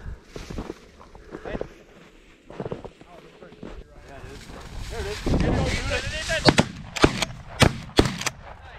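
Shotgun blasts while bird hunting at a game farm outdoors, a few sharp loud reports near the end, preceded by wind buffeting, footsteps and people talking.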